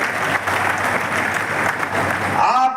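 Loud, sustained applause from a crowd at a political rally with the state chief minister, steady clapping filling the space throughout before a voice begins to speak at the very end.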